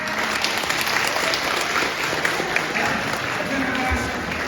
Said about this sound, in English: Can you please have a nice round of applause if you can.